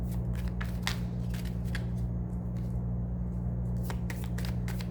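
Tarot cards are shuffled in a quick run of soft riffling flicks, close and fairly quiet, over a steady low electrical hum with no talking.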